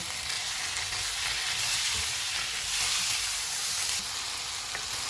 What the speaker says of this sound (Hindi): 4 मिनट के बाद 2 टमाटर डालेंगे और इनको 2 से 3 मिनट तक भूनेंगे।